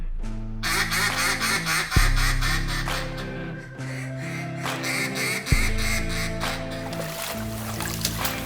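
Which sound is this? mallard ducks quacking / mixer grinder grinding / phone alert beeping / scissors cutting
mallard ducks quacking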